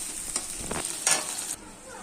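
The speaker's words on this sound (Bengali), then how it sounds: "পেঁয়াজগুলো হালকা ভাজা হয়ে গেছে লঙ্কা দিয়েছি এর মাছের তেলটা দিয়েছি" Onions and chillies fry in hilsa fish oil in a pan, a close crackling sizzle with a few scraping stir strokes before it drops away sharply near the end.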